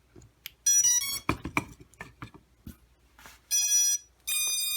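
A Tyro 129 quadcopter's buzzer beeps on power-up, a series of sharp electronic tones in short bursts with brief gaps, mixed with faint clicks and handling noises close by.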